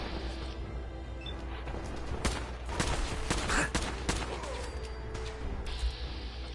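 Minigun gunfire in Fallout 4, a rapid rattling barrage of shots that keeps up for several seconds, with louder clusters of blasts in the middle.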